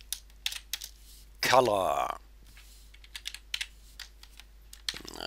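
Close clicking of typing on a computer keyboard in scattered short bursts and single keystrokes, with a brief spoken word partway through.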